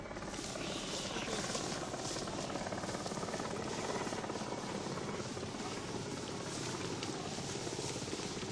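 Steady, dense rotor noise of a military troop helicopter in the 1977 Rhodesian Bush War fills the whole stretch at an even level, a continuous whirring roar with no pauses.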